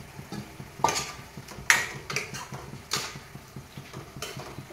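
Fried eggs being stirred into egg masala curry gravy in a pan: soft, irregular scrapes and spoon-on-metal knocks with a few sharper clinks, fairly close, over a faint sizzle and without talk.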